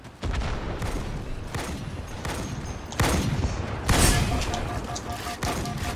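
Multiplayer match in the video game Halo MCC, with a burst of automatic gunfire and heavy explosive booms, one strong blast near the four-second mark, dense and loud with a player voice now and then.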